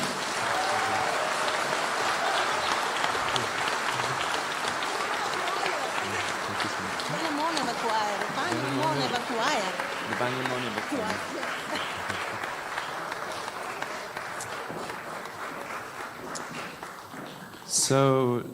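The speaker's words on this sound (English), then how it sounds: "A huge round of applause, everyone, for Cosmic Voices Choir." Sustained audience applause for a choir at a large public gathering, a dense, loud wash of clapping from a crowd that carries on steadily for many seconds while a voice talks over it.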